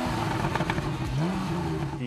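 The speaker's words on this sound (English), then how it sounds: "the Targa GTS has a choice of vents for the exhaust, including one that's unthrottled" A Porsche Targa GTS sports car engine and exhaust drone steadily with a rising and falling tone, rumbling under a voice talking throughout.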